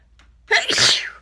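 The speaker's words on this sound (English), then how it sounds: "Oh, I'm gonna sneeze." A single sharp sneeze bursts out up close after a brief quiet intake of breath.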